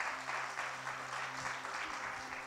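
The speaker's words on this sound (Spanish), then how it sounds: "¿Alguien le da un aplauso a Dios por eso?" Church congregation applauding during a sermon, a moderate steady round of clapping from a crowd of worshippers, continuous and fairly close for a couple of seconds.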